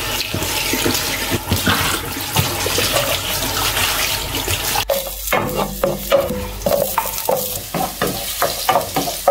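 String beans, water spinach and sardines being sautéed in a pan, with stirring, scraping and clattering. A continuous sizzle fills the first half, then gives way to sharper, intermittent knocks and stirring sounds.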